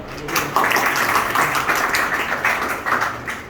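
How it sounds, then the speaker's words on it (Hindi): An indoor audience at a Dubai taxi driver recruitment session breaks into applause, a dense burst of many hands clapping close by that swells and then carries on steadily. "तो ताली तो बजाओ यार"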